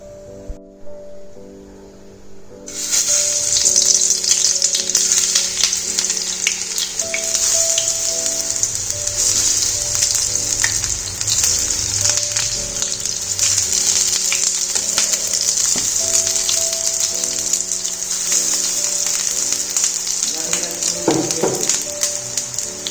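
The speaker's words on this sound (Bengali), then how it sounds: "তেল গরম করে এরপরে আমি এর মধ্যে বেগুনগুলোকে ফ্রাই করে নেব।" Eggplant slices fry in hot oil on a flat tawa, a loud, steady crackling sizzle that starts abruptly after a quiet moment and continues close by, with faint clatter underneath.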